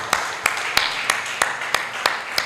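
Scattered hand clapping at an alumni annual general meeting, a handful of sharp, evenly spaced claps sounding over a hushed room rather than full applause.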